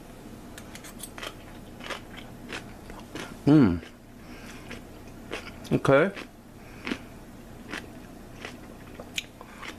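Crisp bites and crunchy chewing of homemade Polish sauerkraut come in two loud bursts close to the mic, separated by quieter chewing, with a brief spoken word in between.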